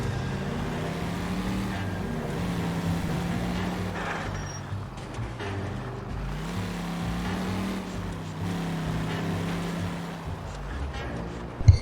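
Car driving in the video game L.A. Noire: a steady engine drone rising and falling with gear changes, mixed with road and traffic noise and a brief bump near the end.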